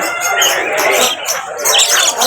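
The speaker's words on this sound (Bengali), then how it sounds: "পাখি পাখি।" Birds chirp and squawk at a bird and animal market in Jizan, Saudi Arabia, a busy mix of bright calls close by, steady throughout with a crowded background.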